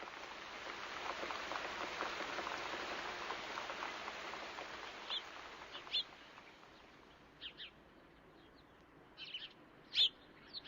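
Steady, soft rain hisses in the background, with a few faint high bird chirps near the end.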